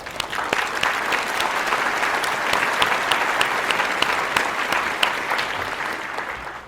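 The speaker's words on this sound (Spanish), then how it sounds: "Tenemos un aplauso, por favor, para el primer invitado" Steady applause from a studio audience welcomes the first guest of a talk show about the origin of the universe, a dense, even clatter of many hands that holds for several seconds with little voice.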